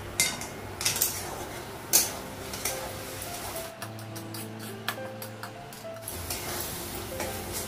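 A metal lid is lifted off a cooking pot of boiling mangoes for chutney on a home kitchen gas stove, giving a few sharp clanks and scrapes followed by a lower, steady hum from the stove and pot.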